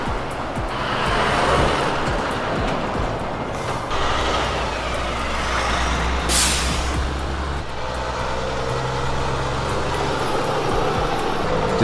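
An Australian Western Star road train truck with an engine of over 600 horsepower rumbles and roars loudly and steadily for the whole stretch, with a deep low drone and shifting road noise.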